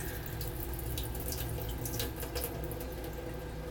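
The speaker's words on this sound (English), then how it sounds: "I think I'll do one more rinse after this, and then that'll be it for cleaning up the raisins." Tap water runs steadily into a sink while raisins are rinsed, with faint irregular splashes and drips over a constant hiss, fairly quiet and without speech.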